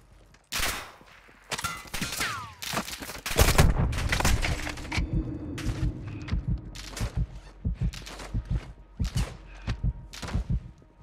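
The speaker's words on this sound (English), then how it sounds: "Taking effective fire." Gunfire in Call of Duty: Modern Warfare II, with sharp, close shots fired singly and in short bursts, irregularly spaced, and a louder stretch of sustained fire partway through.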